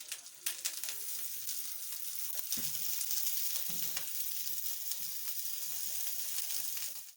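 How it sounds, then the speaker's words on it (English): Sausages grilling in a pan give a steady, close sizzle and crackle that holds for the whole stretch, with a few sharper pops and spatters along the way and no voices. "keep checking on your sausages so that every part of your sausage is burned and well cooked"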